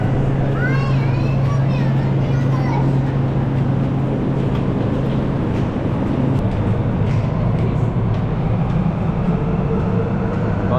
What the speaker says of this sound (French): ça c'était le métro de Bursa